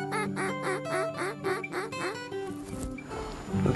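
A rapid run of loud, nasal duck quacks repeats in a steady rhythm close by, then trails off into mixed outdoor noise.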